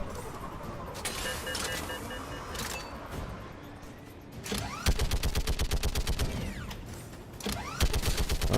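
Bursts of automatic weapon fire from the shooter game Mass Effect 3, with a steady rapid volley in the second half and shorter bursts near the end, loud and close over background game sounds and music.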